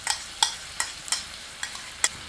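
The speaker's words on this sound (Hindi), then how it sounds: "मिलाकर 2 मिनट मध्यम आंच पर भूनते हैं" Chopped tomato for chilli paneer being stirred in a pan over medium heat, with about six sharp spatula scrapes and clicks spaced roughly evenly over a faint sizzle, close by and with no talking.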